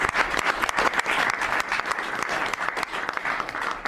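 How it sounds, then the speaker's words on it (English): Press corps breaking into sustained applause in the White House briefing room, dense steady clapping from many hands for several seconds, fairly close, with no talk over it. "The press actually broke out in applause."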